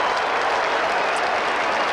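A large stadium crowd roars and applauds at a 1999 Australian football match between the Kangaroos and Adelaide, a dense, steady wash of cheering filling the whole moment.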